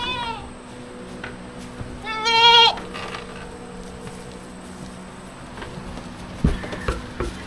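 Goats bleating inside a barn, with one loud wavering bleat near the middle, a fainter call at the start and a short thump late on, over a steady low background hum.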